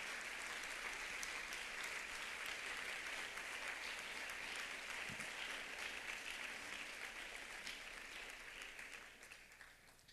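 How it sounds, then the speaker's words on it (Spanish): Sustained applause from a church congregation during a sermon, a dense steady clapping that holds for several seconds before gradually thinning and fading toward the end. "Puede usted una ofrenda de palmas al Señor Jesús."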